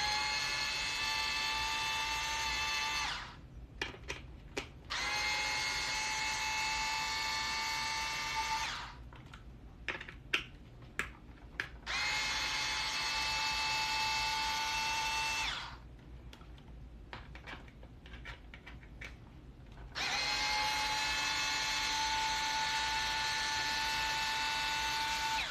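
An electric screwdriver whirs in four separate runs as it backs out four screws on an Arrma Talion RC car, each lasting a few seconds, with small clicks and rattles of handling in the quiet gaps.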